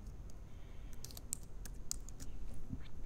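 Keys clatter as text is typed on a computer keyboard, a quick run of close, crisp clicks with short pauses over a faint background hiss.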